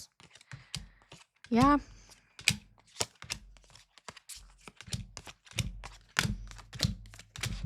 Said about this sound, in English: I'm going to just shuffle a little bit more here and just pull past, present, and future all at once